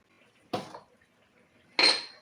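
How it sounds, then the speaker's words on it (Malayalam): A metal lid clanks twice onto a cooking pot of fish curry, two short sharp clinks separated by a quiet pause, close and fairly loud. "നമുക്കിത് അടച്ചു വയ്ക്കാം"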